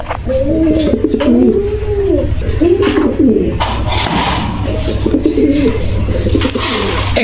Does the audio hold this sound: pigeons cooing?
yes